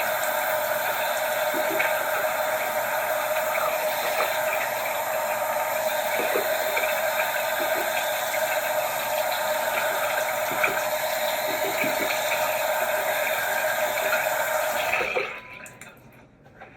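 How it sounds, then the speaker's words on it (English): Running water from a tap pours steadily while hands are rinsed clean of a hand-care product, a constant close rush with faint splashing and clicks, cutting off abruptly near the end. "it just needs a thorough rinse. Get all that product off your hands."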